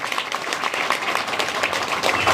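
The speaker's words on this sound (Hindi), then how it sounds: "उन महिलाओं के लिए तालियां सम्मान साहब।" Steady applause from a rally audience, dense overlapping claps continuing at an even, fairly loud level throughout.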